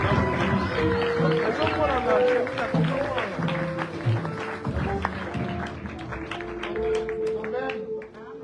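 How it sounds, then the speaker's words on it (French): A church congregation at a deliverance seminar claps along while a preacher's voice and music carry over it. The steady applause runs throughout. "Applaudissez fortement pour la gloire de Dieu"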